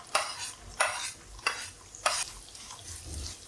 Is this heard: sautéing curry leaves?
yes